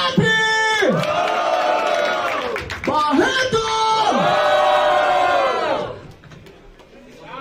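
A crowd at a Brazilian freestyle rap battle, Batalha da Aldeia, roars, yells and cheers loudly in a sustained burst with many overlapping voices, briefly dipping before surging again and then fading away.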